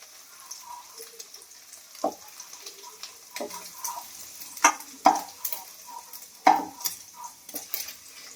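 Egg frying in oil in a kadai while being stirred, a soft sizzle with scattered scraping and clattering spatula strokes, close and fairly quiet, no talk.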